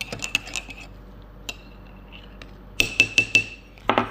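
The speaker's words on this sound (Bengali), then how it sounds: "এবার চাইলে আপনি একটু চামচ দিয়ে নেড়ে নিতে পারেন" A spoon clinks against a mug while stirring mushroom powder into black coffee, with a few scattered taps early on and then a quick run of bright, close clinks.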